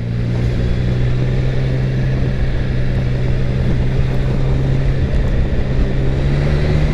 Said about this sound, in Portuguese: a moto empurrando, ó, de quarta marcha, sem a gente precisar reduzir para uma terceira